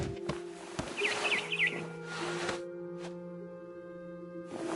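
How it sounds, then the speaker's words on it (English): A barn swallow chirps in a short run of quick high twittering notes in What Remains of Edith Finch, over a soft hum of game ambience and background music. "It was a barn swallow going back to her nest."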